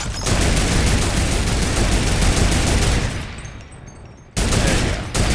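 A video game turret fires a loud, dense burst of rapid automatic gunfire, pounding for several seconds before fading, then a short second burst and a final brief one.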